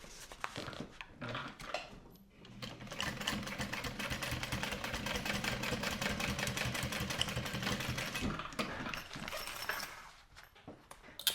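A sewing machine top stitching a duffel bag runs in a rapid rhythmic chatter up close, starting and stopping in bursts with short pauses between runs, no one talking.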